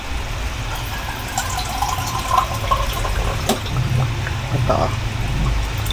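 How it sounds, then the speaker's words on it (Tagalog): Water pours into a simmering sardine dish in a cooking pot, a steady splashy stream running through the whole stretch with a brief louder gush near the end, while someone talks over it. "Kaya nilagyan ko na ng tubig."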